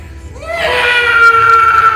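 A voice imitates a high-pitched scream, rising in pitch and then held as a long, loud shriek that lasts close to two seconds, close up and alone.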